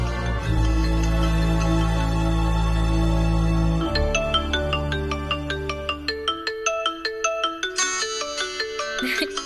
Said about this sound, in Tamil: கலை, முத்து மாமா தான் போன் பண்றாருன்னு நினைக்கிறேன்